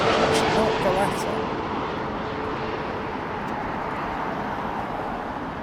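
A Boeing 767 airliner at London Heathrow, a broad, steady jet roar that stays loud throughout, with faint traffic noise underneath and no voices heard.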